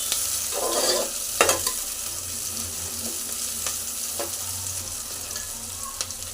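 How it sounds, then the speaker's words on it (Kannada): Onions fry in oil in a pan for a chicken gravy, giving a steady moderate sizzle with a few stirring scrapes and clinks of a spoon. No one speaks. "ಈರುಳ್ಳಿ ಹಾಕಿದ್ಮೇಲೆ ಸ್ವಲ್ಪ ಎಣ್ಣೆನ ಫ್ರೈ ಮಾಡ್ಕೊತಾ ಇದ್ದೀನಿ"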